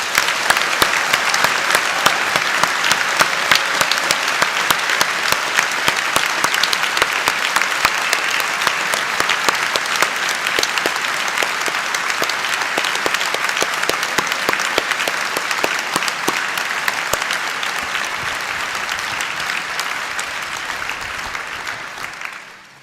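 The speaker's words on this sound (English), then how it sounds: "let's start today's ceremony by giving all of our amazing graduates a huge round of applause" Sustained applause from a large audience at a Belfast university graduation ceremony, steady and dense for about twenty seconds before tapering off at the end.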